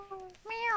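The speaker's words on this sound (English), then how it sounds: "Did I just hear a cat?" A cat gives two short meows in quick succession, the second higher and more drawn out, heard fairly clearly and alone.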